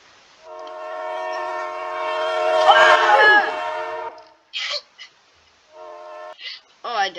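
A train in a video game passes with a loud, swelling horn blast made of rich stacked tones that builds, peaks and fades over several seconds, followed by short horn toots and a voice talking.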